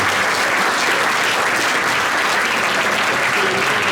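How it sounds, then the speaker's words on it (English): Audience at a Sunday jazz concert by a youth jazz orchestra in Wigan applauding a high-note trumpet soloist, dense loud clapping sustained evenly throughout. "another round of applause for that fantastic high note trumpet player there"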